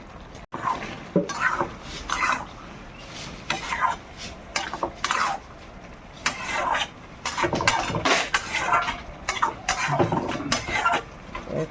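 Gime greens tipped into a pan with potatoes and aubergine and stirred, with repeated close scraping and clattering of a utensil against the pan in irregular bursts over a low background.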